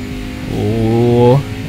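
A Ferrari race car in Forza Motorsport 6 sweeps by with a rising, buzzing engine tone that swells over about a second and then cuts off, heard near and fairly loud with a voice around it.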